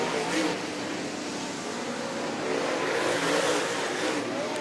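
Dirt track race cars roar around Mt. Pleasant Speedway in a dense, continuous engine wash from several cars at middle distance, with a race announcer talking over it.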